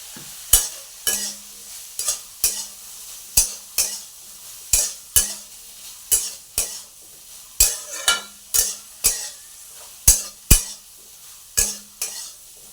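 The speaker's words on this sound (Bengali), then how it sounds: "তো সয়াবিনটা একটু ভাজা হয়ে নিই।" Soybean chunks frying in a pan with turmeric, stirred with a utensil that strikes the pan in a steady run of sharp scraping clacks over a low sizzle, close and fairly loud.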